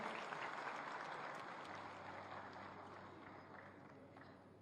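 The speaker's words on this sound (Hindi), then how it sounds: "एक बार जोरदार तालियों के साथ अभिनंदन" Audience applause at an Indian Industries Association entrepreneurs' convention welcoming the chief minister, a dense burst of clapping that gradually fades, with a low hum underneath.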